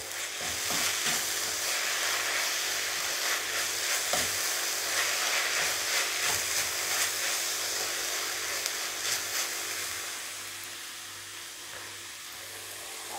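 Drumstick leaves dal thoran sizzles in a frying pan as it is stirred, a loud continuous hissing fry with scraping spoon strokes that eases off toward the end.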